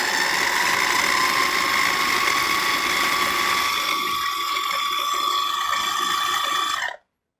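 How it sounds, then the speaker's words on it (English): A food processor pulses ingredients for ginger and cocoa energy patties until finely chopped, giving a loud, steady whirring motor whine that runs continuously and then cuts off abruptly. "And we're pulsing them just until they're pretty finely chopped."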